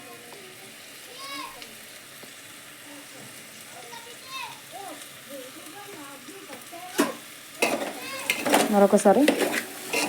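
Salted potatoes are stirred in a frying pan for aloo kurma, a soft sizzle running under a person talking, then a burst of loud spoon-on-pan clatter near the end.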